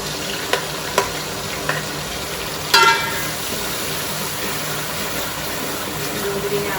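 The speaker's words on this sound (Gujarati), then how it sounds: "આપણે આમાં પહેલાં હવે ડુંગળી નાખી દઈશું, કેમ કે પહેલાં આદુ લસણ નાખીશું તો એ બળી જશે" Onions frying in oil in a pan for sev usal, a steady sizzle with a few sharp clinks and scrapes of a stirring spoon, including one louder clatter early on.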